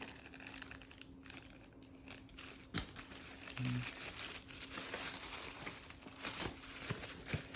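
Packaging of Sennheiser HD 820 headphones crinkles and rustles close by in irregular bursts while it is handled, with a few sharp crackles and a faint steady hum underneath.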